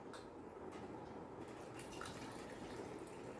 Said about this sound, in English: I am filling water in it.